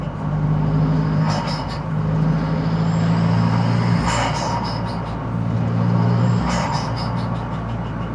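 A turbocharged 20-valve Toyota MR2 engine drones steadily from inside the car and eases down to low revs, with a sustained tone that wavers and drops. A few sharp clicks and hisses break in along the way.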